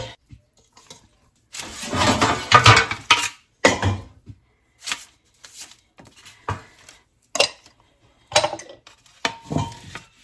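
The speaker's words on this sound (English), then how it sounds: "I'm going to get a spoon." Cutlery and dishes clatter and clink as someone rummages for a spoon, a dense rattling burst followed by scattered, sharper knocks and clinks, close by with no speech.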